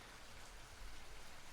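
Steady rain falls during a storm, a dense even hiss of drops that stays constant and moderately quiet for the whole clip, with no voices.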